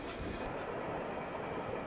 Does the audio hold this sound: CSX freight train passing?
yes